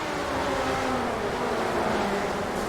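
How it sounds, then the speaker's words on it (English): Virtual midget race cars scream together at full throttle in a video game race, a dense, loud, continuous high engine wail from a pack of cars with no break. "Listen to those virtual midgets scream."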